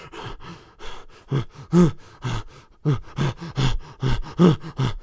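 A voice imitates heavy breathing and grunting: a string of rhythmic, forceful breaths and grunts, close to the microphone and fairly loud.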